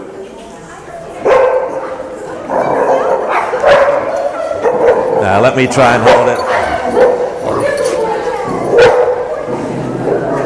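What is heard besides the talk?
dog barking and whimpering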